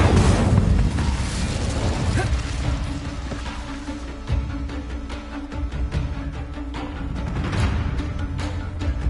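The Incendio fire spell cast in Hogwarts Legacy, a loud, sustained roaring blast of flame with crackling bursts and thuds scattered through it, close and continuous.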